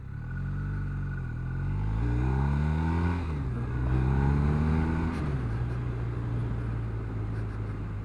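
A BMW R1250RS motorcycle engine pulls uphill at about 44 mph, a steady rising drone with gear-like pitch sweeps and surges, loud and continuous with wind rush and no talk.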